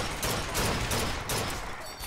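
Dense, noisy rattle of turret gunfire in BioShock Infinite, continuous and fairly loud with a few stronger bursts, filling the short stretch without pause.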